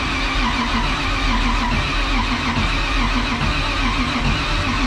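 An old car in a junkyard being started, its engine turning over and running in a steady, loud, continuous drone that fills the whole stretch.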